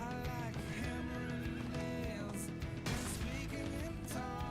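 A horse mount in a video game neighs and whinnies loudly several times over busy, constant game audio, with faint hoof clip-clops mixed in.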